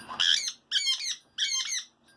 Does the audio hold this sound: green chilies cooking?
no